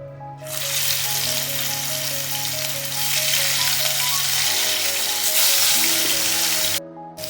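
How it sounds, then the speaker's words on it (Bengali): Marinated katla fish fries in hot mustard oil, a loud, steady sizzle that stays close and continuous from start to finish and cuts off sharply near the end, with no voices. "এবার ম্যারিনেট করা মাছগুলো এতে দিয়ে দেবো ভাজার জন্য"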